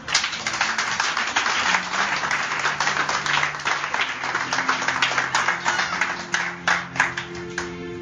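A church congregation applauds and cheers for Jesus, producing dense, steady clapping that fills the whole stretch with no pause, backed by faint sustained tones.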